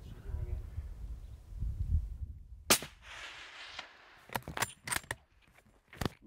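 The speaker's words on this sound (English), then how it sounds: "We shoot him again." Rifle shots while hunting plains game in Africa, several sharp loud cracks in quick succession, close and outdoors, following low murmured talk at the start.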